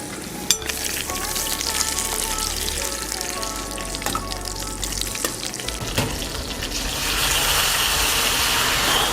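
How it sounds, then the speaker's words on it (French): Lobster in butter and olive oil sizzles and fries loudly in a pan while it is flambéed with Japanese whisky. A few clinks sound at the start, and the hiss swells into a broader rushing flare near the end. "on va mettre un petit peu de beurre, d'huile d'olive, on va les flamber"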